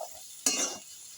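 Mashed taro paste with a little turmeric hits a hot pan in one quick, close burst of sizzling and stirring that fades within a moment, quiet and without talk.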